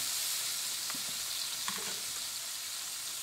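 Cube steaks sizzle steadily in a hot pan just after being flipped, a constant bright frying hiss with a few soft clinks of a utensil against the pan.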